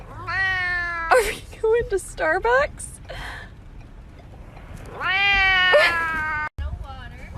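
A cat lets out long, drawn-out meows, loud and close, in two main stretches with shorter yowls between, while people talk and react nearby.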